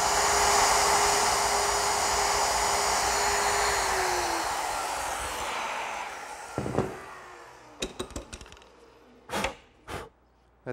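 A wood router cuts a mortise into plywood with a loud, steady high-pitched whine for about six seconds, then winds down, followed by a few brief knocks and scrapes.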